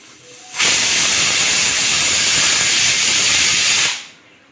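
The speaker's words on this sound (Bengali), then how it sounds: "একটা সিটি হলো আরেকটা পড়লে তখন আমি সিমে করে দেব গ্যাসটা" A pressure cooker on a gas stove, cooking mutton curry with potato and papaya, lets out a single loud, sustained whistle of escaping steam that cuts in sharply, holds for about three seconds, then stops.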